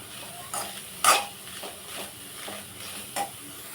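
Finely chopped cabbage and onion stir-fried in a spoonful of oil in a pan for cabbage egg bhurji, with a soft steady sizzle broken by a few sharp spatula scrapes and clinks, close and fairly quiet.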